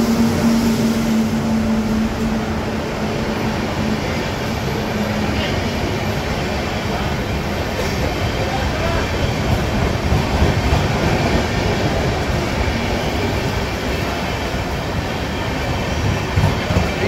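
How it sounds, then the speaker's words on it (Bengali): 13151 Jammu Tawi Express rolling into a station platform, a loud steady rumble of wheels and carriages with faint squeal and clatter, continuous throughout with no talk. "অ্যানাউন্সমেন্ট করলো আমাদের ট্রেন আসছে 3 নম্বর প্ল্যাটফর্মে"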